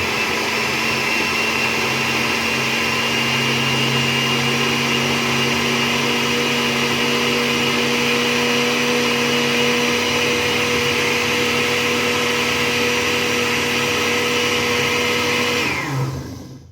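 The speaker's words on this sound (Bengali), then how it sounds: "ব্লিন্ডার আমার রেডি এখন ব্লিন্ডার করার পালা কাজ চলছে" An electric blender whirs steadily at full speed for about fifteen seconds, blending three eggs into a frothy sharbat-style drink, then winds down and stops at the end.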